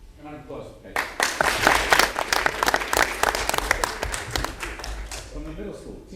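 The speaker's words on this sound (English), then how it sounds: "Round of applause, Peggy." Applause from a school board meeting audience for a school nurse, starting after a brief pause and building into steady, dense clapping with sharp individual claps, then thinning out toward the end, with talk underneath.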